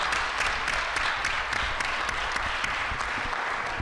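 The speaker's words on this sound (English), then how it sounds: "One more round of applause for Ms." Audience applause at a school board meeting, a steady wash of many hands clapping throughout at moderate level, with no talking over it.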